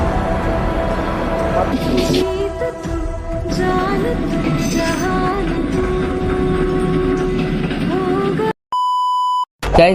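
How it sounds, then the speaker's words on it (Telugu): Train sounds from a mobile train simulator game: a steady rumbling engine drone with tonal hums and shifting pitches, ending in a sharp electronic beep sequence. "మీ మొబైల్లోనే ట్రైన్ సిమ్యులేటర్ అయితే ఆడగలరు ఫుల్ ఓపెన్ మ్యాప్ తోటి"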